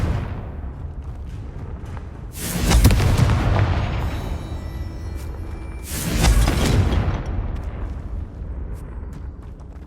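Two heavy blasts from the Confringo explosion spell in Hogwarts Legacy, each a loud booming burst that trails off over a couple of seconds, spaced about four seconds apart over a low game ambience.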